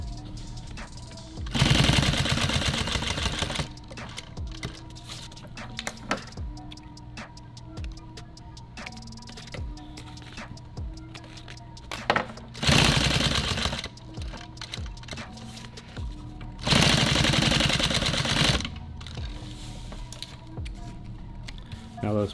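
A sewing machine stitches a label onto nylon tactical gear in three loud, long bursts of rapid stitching, with quieter mechanical ticks and clicks in between.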